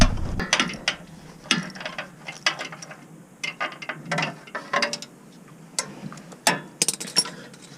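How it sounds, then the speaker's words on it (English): A ratchet wrench with a 10 mm socket on several extensions cracks open the coolant drain valve on a Toyota Tundra/Sequoia engine, giving irregular bursts of close, sharp clicking with short pauses between strokes. "we're going to use a 10 mil with a whole bunch of extensions and crack that valve open"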